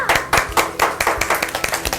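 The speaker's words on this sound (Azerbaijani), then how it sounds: "Gəlin özümüzü alqışlayaq." A group of young children clap for themselves at the end of a kids' show, quick uneven slaps close by that come in bursts of a few claps, fairly loud and separated by brief gaps.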